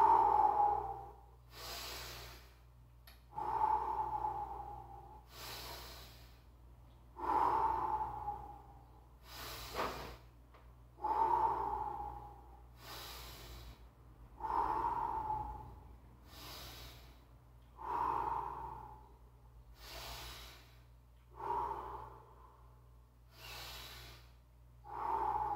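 Deep, rhythmic breaths during an exercise class, with about a dozen forceful inhale-exhale cycles repeating at a slow, steady pace, close and breathy, each one a strong rush of air, with no talking.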